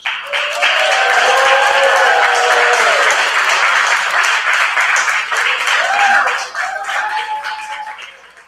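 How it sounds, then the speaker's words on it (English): Applause from a gala audience at a Young Gifted & Black entrepreneurial awards celebration and fundraiser, a dense, sustained wash of many hands clapping that eases off toward the end, with voices calling out over it. "Another round of applause, ladies and gentlemen."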